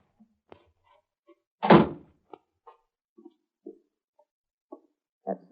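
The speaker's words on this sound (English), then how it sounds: "That's the cellar door." Cellar door opening as a radio drama sound effect, with a single solid wooden thunk and scattered small creaks, clicks and taps around it in a quiet setting.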